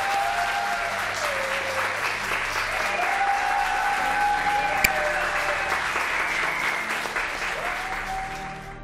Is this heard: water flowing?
no